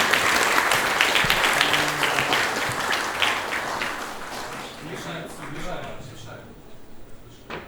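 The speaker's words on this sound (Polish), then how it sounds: "prosimy o długie brawa" A crowd claps loudly and steadily, the applause thinning and fading out toward the end.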